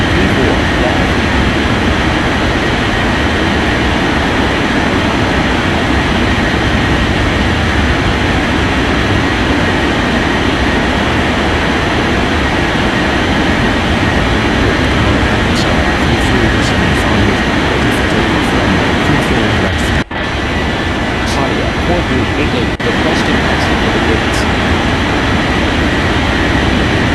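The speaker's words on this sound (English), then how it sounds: "Transport 2193, cleared for takeoff runway 34, left." An aircraft takes off in an air traffic control video game: a steady, loud, broadband engine roar fills the whole stretch without a break, with a brief dip near the end.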